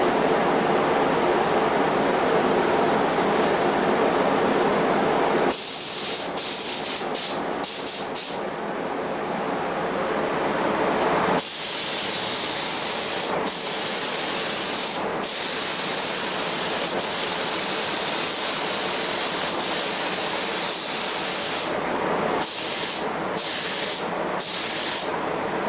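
Spray gun painting a 1968 Skylark car with paint reduced 10%: a loud, close, steady hiss of atomized paint that runs in long passes, broken by short stops and clusters of quick on-off bursts.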